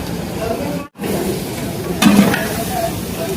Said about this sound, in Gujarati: બટાકાને સાંતળવાના આવી છે.